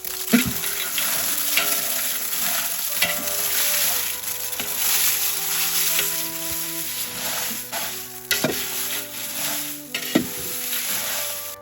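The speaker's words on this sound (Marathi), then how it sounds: "आता याच्यामध्ये लाल मिरच्या टाकून घेते" Red chillies roasting in a pan for homemade kala masala, with a steady dry sizzle under repeated stirring scrapes and a few sharper knocks against the pan.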